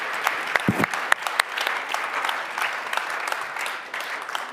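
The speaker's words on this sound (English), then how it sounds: "Give it a big applause, come on." Scattered clapping from a small crowd, with a few sharp claps standing out near the start and a thin, steady patter after.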